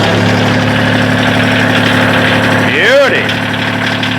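A Kioti tractor's diesel engine idles with a steady, even rumble close by while someone speaks briefly over it, and a short rising whine sweeps through partway.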